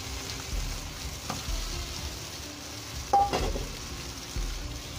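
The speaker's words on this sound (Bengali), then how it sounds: "এখন আমি এর মধ্যে চিংড়ি এবং টমেটো দিয়ে দেব।" Shrimp and tomato fry in a pan for chingri bhuna with a soft steady sizzle, interrupted by a few scraping stirs and one sharper clink, no talk.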